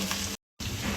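Cabbage sautéing in a pan for a vegetable biryani gives a soft, steady sizzle, broken by a brief silent gap in the middle.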